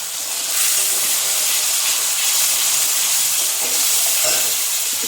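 Spiced oil in a pan with koi fish curry sizzles and hisses steadily and loudly, with occasional soft scraping from stirring underneath.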